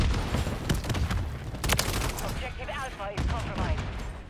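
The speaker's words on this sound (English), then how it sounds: "Ah, grenade!" A grenade blast bursts amid heavy gunfire in a shooter video game, with loud bursts of shots and a thudding explosion followed by continued firing. A voice briefly speaks over the din.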